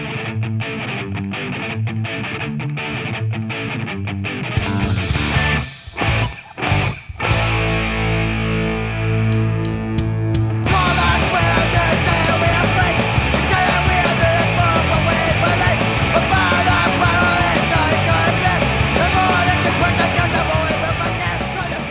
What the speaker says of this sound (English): The guys, they're squealing guitars, scream vocals, everything's just going like 100 miles an hour.